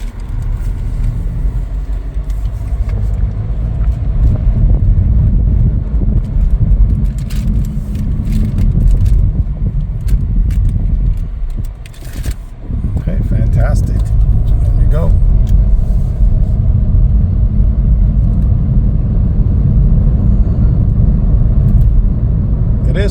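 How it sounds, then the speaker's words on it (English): A 2022 Chevrolet Trailblazer LT on a test drive, heard from inside the cabin as a steady low road and engine rumble that continues throughout, with a brief dip midway. "Okay, we're all set to take for a test drive."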